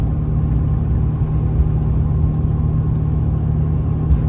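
A Chrysler Imperial car engine running with a steady, loud low rumble and a continuous whir, with no one talking.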